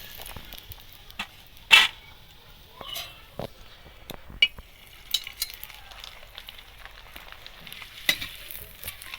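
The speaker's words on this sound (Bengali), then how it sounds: "কড়াইতে তেল দিয়ে দিয়েছি, সাদা তেল গরম হয়ে গেছে। এবার পাঁপড়গুলো দেব।" Jackfruit-leaf flour papads frying in hot white oil in a wok: a quiet background of bubbling oil broken by several sharp crackles and a loud burst near the start, no speech.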